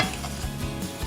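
Pancake from Aunt Jemima mix with milk frying in a frying pan, a steady soft sizzle and faint stirring clinks with no talking.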